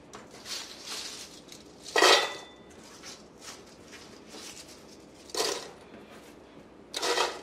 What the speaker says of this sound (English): In a nice big pot, we're gonna go in with all the dried sorrel.